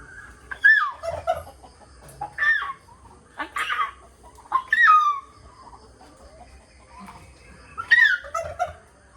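A rooster crows and calls several times, close and loud, in short bursts separated by quieter pauses.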